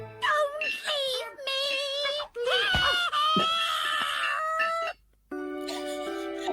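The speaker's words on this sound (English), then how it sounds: "Her screams." A woman screaming as a sound effect, several high, wavering shrieks in quick bursts with short breaks between, loud and close.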